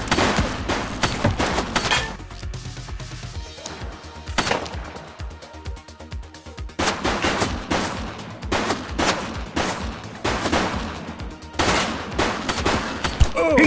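Shootout gunfire in the police action game The Precinct: loud, dense bursts of rapid shots in several clusters with brief lulls between, close and sharp, with no talk over it.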